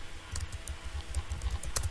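Typing on a computer keyboard produces a series of quick, close clicks in irregular bursts over a low, steady background hum.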